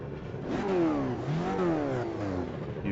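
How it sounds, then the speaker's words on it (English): Racing car engines revving on the starting grid of the Austrian Grand Prix in an F1 racing video game, rising and falling whines that sweep up and down several times, fairly close and without voices. "Revving up that engine."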